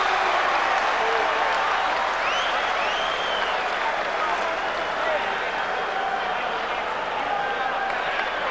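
Boxing crowd at a heavyweight bout between David Tua and Lennox Lewis applauding and cheering between rounds, a dense, sustained roar of clapping and voices filling the arena.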